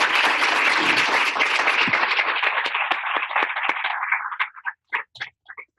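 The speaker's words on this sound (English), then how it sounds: "So we really appreciate a round of applause." A crowd breaks into loud, sustained applause that thins out into a few scattered claps before stopping.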